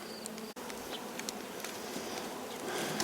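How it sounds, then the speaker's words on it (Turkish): Honeybees buzz densely around a village beehive where they come up to feed on honey syrup, a continuous close hum of many insects with no voices. "Arılar üstteki süzekli delikten çıkaraktan o içerideki şerbetleri yiyip tekrar içeri dönüyorlar."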